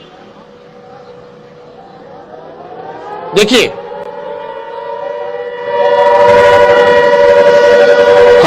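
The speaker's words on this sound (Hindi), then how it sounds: "सायरन बजना शुरू हो गया है" A civil defense siren in Barmer, India, rises and holds a steady wailing tone, getting louder toward the end, while someone talks over it with a brief sharp noise partway through.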